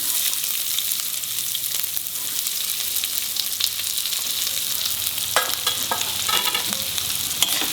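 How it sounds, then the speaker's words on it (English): Onion frying in hot oil with spluttering mustard seeds gives a constant near sizzle, dense crackling pops sharpening toward the end. "when it spurts, you put in the onion"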